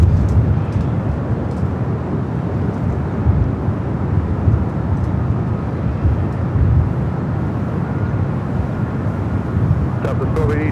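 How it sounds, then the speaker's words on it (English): A United Airlines Boeing Dreamliner bound for Hong Kong takes off at LAX, a steady, loud broadband jet roar that holds evenly throughout without fading. "Next takeoff on the south side, United Airlines Flight 152. It's a Dreamliner heading to Hong Kong."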